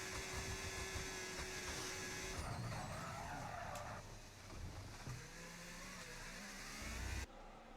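Ferrari and Sauber Formula racing cars lapping on track in a sim racing game at Austria, engines whining and revving past with gear shifts and a brief tire squeal, fairly faint and continuous with no talking.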